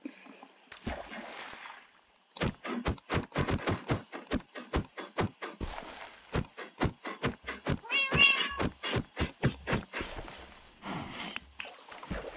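A Minecraft cat meows repeatedly in quick, rhythmic bursts, close and fairly clear, with a few brief pauses between runs of calls.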